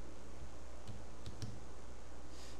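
Typing on a computer keyboard during a Corel Draw lesson, a few sparse soft key clicks spread over a steady background hum, faint and with no talking.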